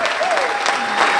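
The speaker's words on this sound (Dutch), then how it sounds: "mag ik een daverend applaus nogmaals voor Vernon" A packed room gives a warm, steady burst of applause for percussionist Vernon Chatlein at a recognition ceremony, dense and loud throughout the short stretch.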